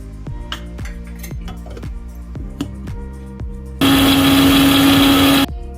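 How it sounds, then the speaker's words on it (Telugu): A kitchen mixer grinder grinds chopped onions in a loud, steady motorized whir with a constant hum that starts abruptly after quieter clinks and knocks of kitchen prep, runs for under two seconds, then cuts off. "ఉల్లిపాయలు కట్ చేసుకొని మిక్సీ పట్టుకుందామండి"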